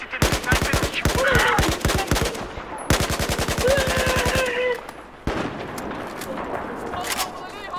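Rapid automatic gunfire in a Battlefield 4 multiplayer match, loud and close, coming in long repeated bursts with brief pauses and a few single sharp shots, with game voices faintly underneath.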